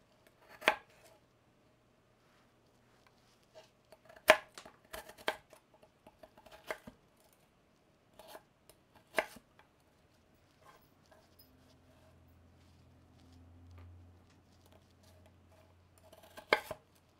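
A knife chops tomatoes into bigger chunks on a cutting board in a home kitchen, giving sharp, separate close thuds spaced irregularly with quiet gaps, while a low hum runs underneath near the end.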